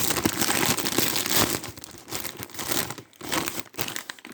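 A bag of Lay's potato chips is torn open with loud, continuous crinkling and crackling of the plastic foil, close up, the rustle easing into brief pauses and a few more crinkles toward the end.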